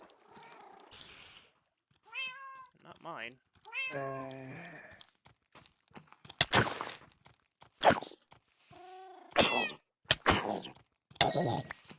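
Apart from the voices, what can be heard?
cats meowing outside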